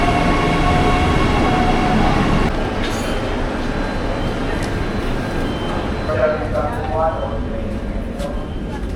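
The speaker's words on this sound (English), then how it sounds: "this looks like our train now" A tram or train pulls into a station on a Gold Coast to Noosa rail trip, a steady loud rumble and rolling wheel noise filling the scene while brakes squeal faintly near the end.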